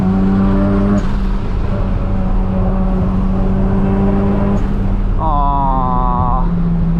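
Single-turbo Mazda RX7 FD rotary engine under full throttle on a mountain road, a loud sustained drone heard from a chase car, rising in pitch through the gears with shifts between pulls.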